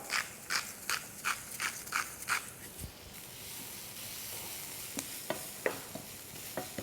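A spatula scrapes and stirs shallots frying in a pan in a quick rhythmic series, then oil sizzles softly with a few more scrapes.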